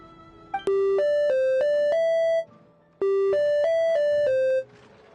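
Chiming, bell-like electronic notes from a mechanism in the Genshin Impact video game, two quick melodic phrases of about five tones each separated by a short pause, clear and prominent with no talk.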